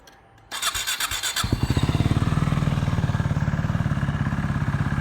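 A KTM RC390 fitted with a Barrel Rouge exhaust cranks over for about a second, then fires and settles into a loud, close, rapid single-cylinder idle thump.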